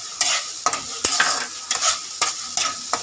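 Goat mutton masala and garam masala fry in hot oil while a spoon stirs steadily, giving repeated scraping strokes about every half second over a continuous close sizzle, with no talking.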